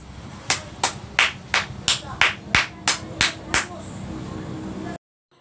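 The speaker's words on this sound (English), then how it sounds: "Let's give the team with a cheer of resounding applause." Classmates cheer a group's presentation with about eleven sharp, evenly spaced claps in a steady beat, then a brief stretch of continuous room noise before cutting out.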